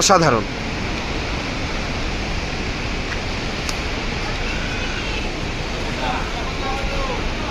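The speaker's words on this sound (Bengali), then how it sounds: "খরস্রোতা নদীর যে একটা প্রবল গর্জন" A fast-flowing river roars beside a steep mountain road on a trip toward Manali, a steady, broad rushing noise that fills the whole clip after a short voice at the start.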